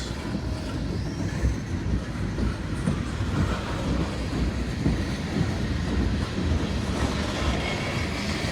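A long freight train rolls past on the rails, a loud, steady rumble with clickety-clack wheel beats and occasional faint squeals, close by and continuous without talk.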